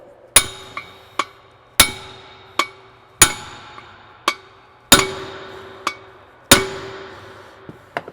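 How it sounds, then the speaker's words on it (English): Sharp metallic hammer blows on a steel punch driving a car wheel stud, about ten strikes in an uneven rhythm, each ringing briefly, close and clear with no talking. "take a good sized punch, your favorite hammer,"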